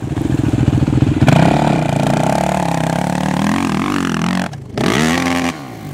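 An LTR 450 quad's engine roars at high revs on a gravel hillclimb as its wheels spin, the pitch wavering and briefly cutting out before revving again up close.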